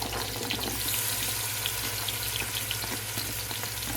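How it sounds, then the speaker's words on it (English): Leeks and carrots sauté in a pot for split pea and ham soup, giving a continuous, even sizzle and crackle close by, with no voices. "we're going to saute this just a little bit."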